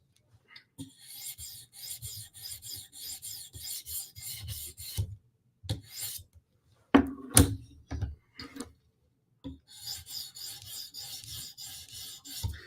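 Spartan Harsey and ZT knives being sharpened, steady repeated rasping strokes of steel across a stone in close rhythmic bursts, with a pause and a few sharper knocks midway before the strokes resume.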